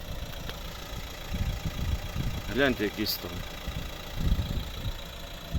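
A 2013 Renault Grand Scenic III's 1.5 dCi diesel engine idles steadily with a low, even rumble while someone speaks briefly over it.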